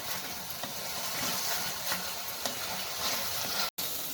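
Small onion pieces fry in gravy in a pan, a steady close sizzle with soft crackles and faint stirring scrapes, broken by one brief silent gap near the end.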